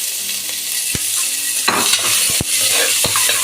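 Small onions fry in a pan with whole spices for a Tamil-style mutton curry, giving a steady loud sizzle broken by a few sharp clinks of a spoon stirring against the pan.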